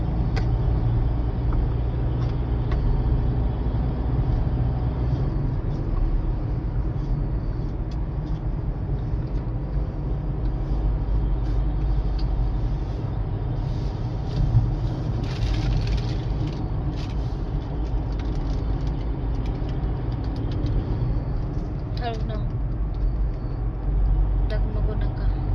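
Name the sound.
vehicle driving on the Tamini ghat road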